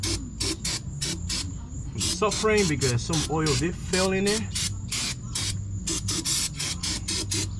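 Short bursts of aerosol cleaner spray hiss in a rapid, repeating rhythm, close by, during an oil change on a Nissan Pathfinder, with someone talking over them throughout.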